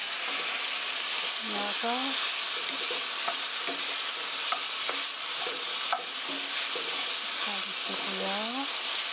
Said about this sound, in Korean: 이렇게 양파가 투명해질 때까지 볶아주세요